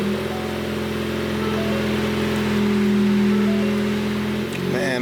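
Ford Focus RS engine idling in neutral with the e-brake set, a steady, even hum with a low harmonic drone held near and constant throughout.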